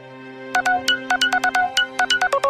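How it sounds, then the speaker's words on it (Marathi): A mobile phone rings for an incoming call, its ringtone playing a quick melodic run of bright, repeating notes in short bursts. It sounds close and clear, with no talking. "हे बघ, माझ्या पिल्लूचा फोन आला."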